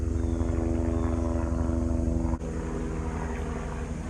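A propeller airplane drones steadily overhead in a park, a loud, even engine hum with a brief dip partway through before the drone carries on.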